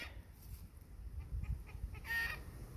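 A young pet chicken, a cockerel nearly 5 lbs at 11 weeks, gives a few soft clucks and a brief louder squawk near the end, close by over a low background rumble with no talking.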